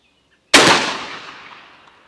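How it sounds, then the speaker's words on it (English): Single 12 gauge shotgun slug fired outdoors, one sharp loud blast after silence, followed by a long fading echo that rolls away over about a second and a half. "last shot with a 12 gauge slug"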